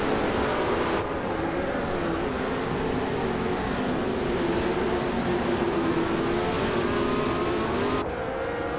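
Race cars in a racing video game roar off the line together, a loud sustained engine drone with rising and shifting revs over several seconds.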